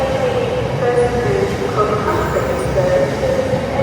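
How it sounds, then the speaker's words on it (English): A freight train rumbles past close by, a loud continuous roar of wagons with faint squealing tones riding on top. "it's a bloody freight train"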